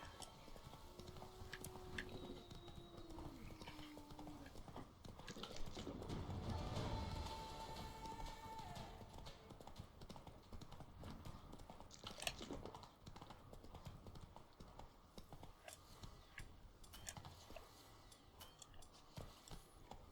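Quiet, steady hoofbeats of a trotting horse in The Witcher 3: Blood and Wine, soft and rhythmic against a low ambient background.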